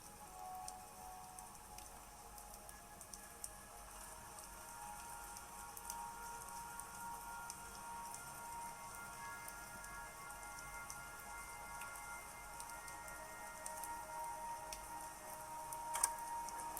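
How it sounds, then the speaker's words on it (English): Rain falls steadily in a video game intro, a soft, even patter that continues for the whole stretch with a few faint ticks and no talking. "It's a rainy day."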